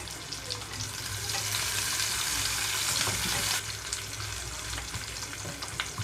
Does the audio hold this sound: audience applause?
no